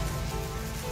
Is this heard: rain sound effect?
yes